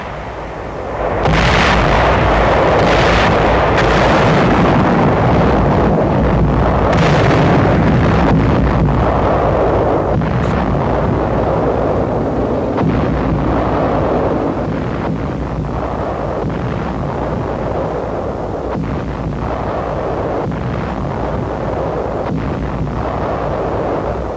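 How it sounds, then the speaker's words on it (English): Heavy WWII artillery shelling of the Clark Field area in the Philippines, 1945, heard as a dense, loud, continuous rumble of booming blasts on an old newsreel soundtrack, with no voices. "troops of the 14th Corps bring up artillery to attack the Clark Field area, which is subjected to heavy shelling before tanks and infantrymen move in"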